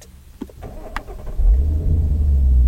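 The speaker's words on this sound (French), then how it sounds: "On va pouvoir démarrer la Mustang, donc je vais demander de débrayer à fond et on va pouvoir appuyer sur Engine Start" A Ford Mustang Bullitt engine cranks and fires after a couple of small clicks, then settles into a deep, loud, throaty rumbling idle, close up with no talking.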